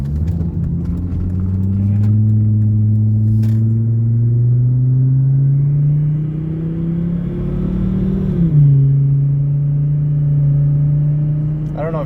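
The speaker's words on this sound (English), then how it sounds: "I don't know if you can hear my turbo spooling up in this car" A car engine drones loudly as a turbocharger's rising whine builds steadily over several seconds, then drops off and settles back to a steady hum.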